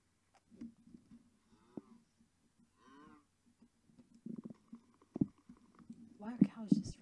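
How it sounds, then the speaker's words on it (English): Cows moo in the Minecraft video game, a few soft, separate lowing calls spread across a quiet stretch, mixed with faint movement and brief bursts of game noise. "Why are cows just running into my house?"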